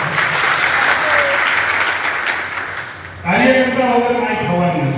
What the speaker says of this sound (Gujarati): તો આપણે ગોપાલભાઈને વિનંતી કરીએ કે આ તમામ કાર્યકર્તાઓને પોતે તાળી વગાડીને વધાવો